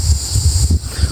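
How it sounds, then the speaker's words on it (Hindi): Gusty wind picks up ahead of a storm, buffeting the microphone in uneven low bursts with a steady rushing hiss above, loud and close throughout. "अभी देखो दोस्तों हवा चलने लग रही है"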